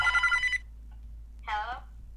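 A telephone bell rings loudly in a short burst, then falls silent, and a tense voice speaks just after it.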